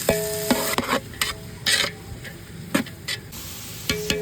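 Curry leaves, onion and whole spices like cinnamon and stone flower frying in oil in a pan for vegetable kurma, with a steady sizzle broken by stirring scrapes and clinks of a spoon against the pan, no voices.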